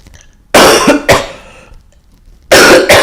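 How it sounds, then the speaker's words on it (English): Four loud, close coughs arrive in two quick pairs, separated by a short quiet gap. "I got a cough again."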